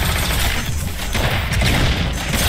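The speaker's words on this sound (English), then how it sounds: "Proton cannon." Iron Man's proton cannon attack in the fighting game Marvel vs Capcom Infinite, a loud, dense roaring blast of sustained energy fire with crackling bursts throughout.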